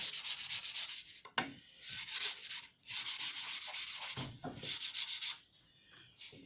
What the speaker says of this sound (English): Give that a little bit of a sanding